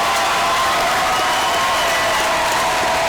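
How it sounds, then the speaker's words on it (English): Steady, dense applause from students and fans in a high school gym at a Salem vs South Lafourche boys basketball playoff game, a continuous loud wash of clapping with crowd noise throughout. "getting a round of applause from their students or from their fan section"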